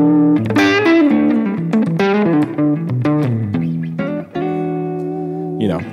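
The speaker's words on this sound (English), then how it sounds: "it's like a really warped vinyl pitch modulation kind of sound. And then on top of a like spring reverb." A sustained, wobbling tone whose pitch drifts and bends like a warped record, soaked in a twangy spring reverb, loud and continuous.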